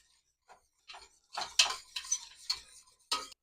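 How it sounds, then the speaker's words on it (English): Quiet, irregular scraping and tapping of a whisk or spoon working minced garlic into chili in a cast iron pot, several short strokes spaced apart with silence between. "Whisk all that in there."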